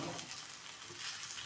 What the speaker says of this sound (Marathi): असं सोनेरी रंगावरती भाजून घ्यायचं.